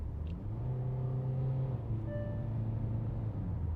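A 2024 Kia Sonet diesel automatic accelerating in sport mode, a steady mid-pitched engine drone heard from inside the cabin that rises slightly in pitch as the car gains pace.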